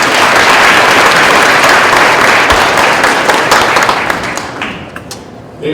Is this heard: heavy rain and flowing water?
no